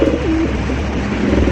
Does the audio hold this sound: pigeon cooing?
yes